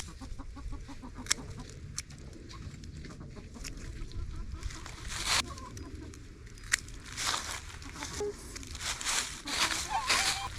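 Backyard chickens in a run scattered with fall leaves cluck and murmur softly, with scattered short calls over a low, rustling background, moderately near and fairly quiet.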